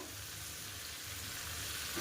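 Ingredients fry in a pan with stirring while a dish of chicken with Malabar spinach and shrimp is cooked: a short, dense, even crackling sizzle, close and uninterrupted, with no voices.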